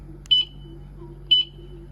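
Two short, high electronic beeps about a second apart from a GPX Drone motorcycle anti-theft alarm, clear and close against a quiet background hum.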